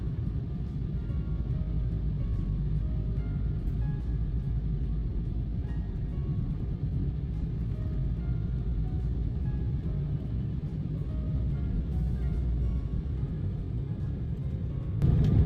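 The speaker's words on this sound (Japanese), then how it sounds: "いよいよ着陸です。" A Bamboo Airways airliner lands on the Da Nang to Hanoi route, heard from the cabin as a loud, steady low roar and rumble that continues throughout, with a brief bump near the end and no talking.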